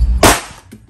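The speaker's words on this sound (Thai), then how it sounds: "ผมจะยิงที่กล่องตรงนี้นะครับให้เห็นว่าปืนแม็กกันไม่มีอะไรหลุดรอดออกจากทางปากกระบอกนะครับ" A single sharp report from a SIG Sauer P320 Ceonic Turkish blank pistol fired close up at a cardboard box, loud and abrupt with a short fading tail.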